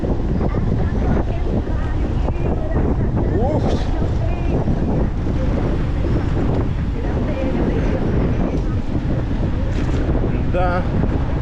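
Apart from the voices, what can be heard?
strong wind by the sea, wind noise on microphone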